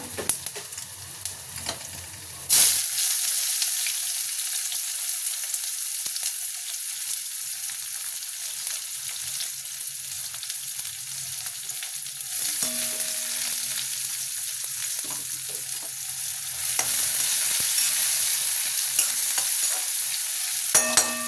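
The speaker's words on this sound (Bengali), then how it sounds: "এই যে এদিকটা দেখো অমলেট ভাজছে, এই যে অমলেট ভাজছে, এটাই অমলেট ভাজছে" Omelette frying in a pan on a home stove, a steady loud sizzle running throughout with a brief clatter near the start and faint background tones, no talking.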